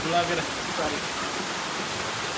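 Rain pours steadily with a dense, even hiss near a flooding bridge in Uttara Kannada, Karnataka, and a voice briefly speaks at the start.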